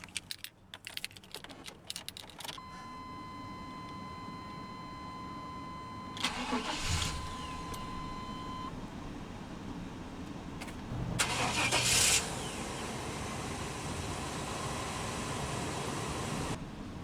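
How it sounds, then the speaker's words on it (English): A few clicks and a steady chime, then a 1998 Chevrolet K1500 Silverado Z71 pickup truck engine cranks and catches, settling into a low idle before revving briefly. "let's go ahead and start the engine"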